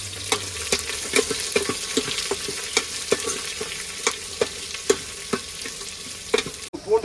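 Onions sizzle steadily in a hot pan as a spoon stirs them, knocking against the pan in regular, fairly loud scrapes and clicks over a continuous frying hiss.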